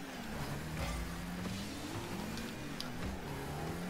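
A video game car engine hums and revs with a rising and falling drone, steady and moderately loud under busy in-game noise, with no voices.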